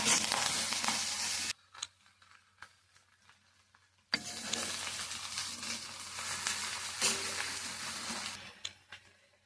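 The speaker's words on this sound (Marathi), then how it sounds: "आपण भाजून घेऊया" A pan of potato filling for dhaba-style samosas is roasted, producing a soft sizzle with bursts of stirring and scraping and a quiet pause midway, heard close without any talking.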